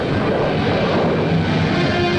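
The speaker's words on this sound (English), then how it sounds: "After roaring through the skies like a conventional jet fighter, it touches down on its runway of water." A Convair Sea Dart seaplane jet fighter roars as it touches down on water, a dense, loud rushing engine sound held steady and close throughout the short stretch, with no voices.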